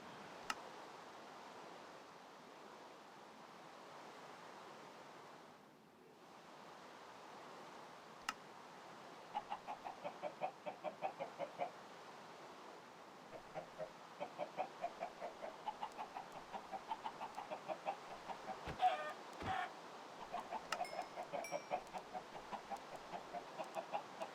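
Chickens cluck inside an automatic chicken farm in Minecraft Bedrock, small pixelated birds penned together. Their clucks and quick ticking clicks repeat steadily over a soft hiss, with no talking.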